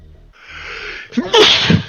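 A single sharp human sneeze, close and loud, preceded by a brief quiet intake of breath.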